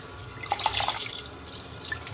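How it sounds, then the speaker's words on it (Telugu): Vegetables being washed under running tap water, a soft trickling flow with a few small splashes and drips, fairly quiet and close, with no voices. "నీళ్ళు కూడా ఎక్కువ పోసి 2 సార్లు 3 సార్లు శుభ్రం కడుక్కోవాలి"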